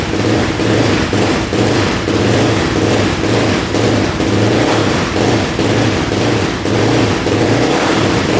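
A big-bore quad ATV engine runs steadily and revs repeatedly, loud and close throughout with no talking.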